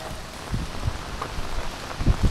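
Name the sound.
heavy monsoon rain in a storm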